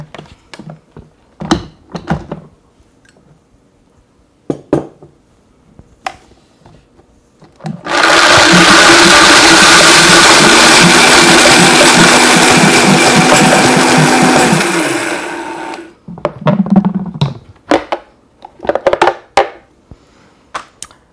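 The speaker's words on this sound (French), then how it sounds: "Et on va le broyer à haute vitesse." A blender grinds homemade kefir parmesan at high speed in one loud, steady roar of about seven seconds that stops abruptly. Quieter clinks and handling noises come before and after it.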